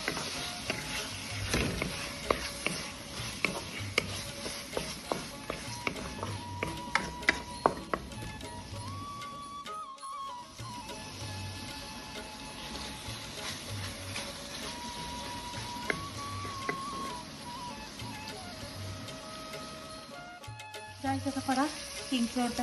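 Spices fry in hot oil in a pan with a soft, continuous sizzle, scattered with light clicks and scrapes from stirring. A faint tonal whine runs underneath, and the whole sound stays quiet and close.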